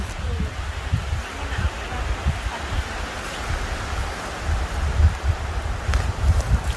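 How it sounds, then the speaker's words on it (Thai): Strong gusty autumn wind roars through leaves in a forest, a dense continuous rustle with low rumbling buffeting on the microphone. "ลมแรงมาก"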